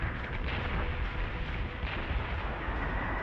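Warship naval guns fire in a video game, a dense, continuous rumble of heavy blasts and rolling booms at a steady loud level with no voices.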